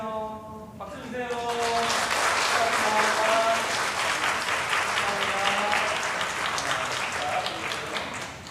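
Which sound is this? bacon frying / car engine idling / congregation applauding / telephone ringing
congregation applauding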